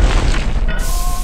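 A grenade blast in the horror game Half Dead, a loud, heavy boom with deep rumbling low end that fills the short moment, followed by a faint ringing tone.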